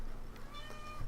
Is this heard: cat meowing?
yes